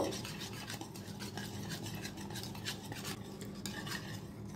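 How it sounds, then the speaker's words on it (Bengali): Black pepper and garam masala powder being stirred together in a cooking pot for chicken polao, giving a steady, soft scraping and rubbing texture that runs unbroken and moderately close with no voices. "হাফ চামচ গোলমরিচের গুঁড়ো, হাফ চামচ গরম মশলার গুঁড়ো, সব দিয়ে ভালো করে মিশিয়ে নেব।"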